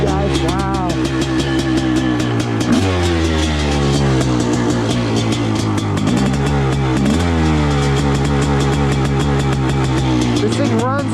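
A Honda CR500 two-stroke motorcycle engine, freshly cold-started, revs loud and close, its pitch climbing and dropping in repeated throttle blips over a constant rough idle.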